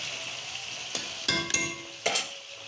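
Potatoes fry in a pan for a home fish curry, a soft, steady sizzle punctuated by a few sharp clinks and scrapes of a utensil against the pan.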